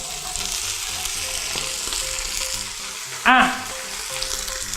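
Vegetables sizzle steadily in a hot pan, then a small splash of water hits and bursts into a louder hiss before settling back to an even frying crackle, alone without talk.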